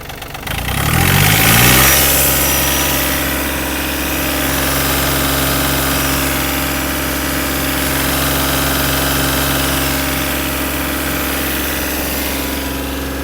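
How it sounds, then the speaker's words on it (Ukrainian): A Yanmar AF-26 Japanese mini tractor's engine revs up sharply, then holds at a steady, loud, throbbing speed close by, with no talk. "Ну, вже даю газу, то давайте і тут дам"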